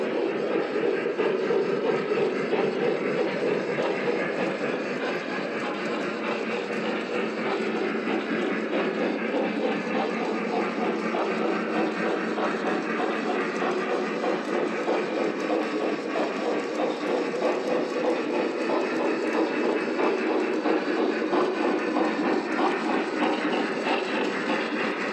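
A model train engine, a Berkshire locomotive, runs on a home layout's tracks, giving a steady, loud mechanical rolling and whirring that holds evenly throughout with no pauses.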